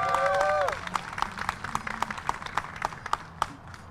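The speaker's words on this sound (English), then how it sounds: "Let's give him a round of applause." An outdoor crowd at a Pride flag-raising gives the state treasurer a round of applause: a brief cheer, then scattered, fairly sparse individual claps that thin out over a few seconds.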